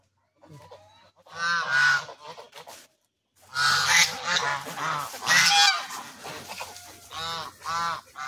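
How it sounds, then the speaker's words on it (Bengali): A flock of ducks kept at a village homestead in Noakhali calls out in loud, nasal honks and quacks, arriving in several separate bursts close by with short pauses between them and no talking over them. "এই যে হাঁসগুলো"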